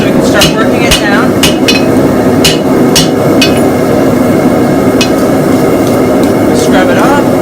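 Sharp, ringing hammer blows strike a hot Damascus steel billet made from saw blades during forging, landing in an irregular series over a loud, steady forge roar and blower noise.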